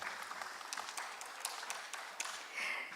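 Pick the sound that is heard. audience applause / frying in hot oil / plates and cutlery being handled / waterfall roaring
audience applause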